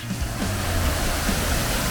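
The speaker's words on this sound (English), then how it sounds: "You can get right up to the waterfall while still being safe, of course." Wapta Falls in Yoho National Park, British Columbia, roaring with a loud, steady, dense rush of falling water heard close up, with no voices.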